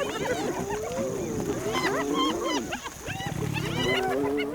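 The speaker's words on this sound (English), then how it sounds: "The hyenas dare to go for it and start an all-out attack on their rivals" Hyenas attack lionesses at a kill during an African night, a chaotic clamor of whooping, giggling cackles and rising squeals layered with deep growls and snarls, loud and close and continuous throughout.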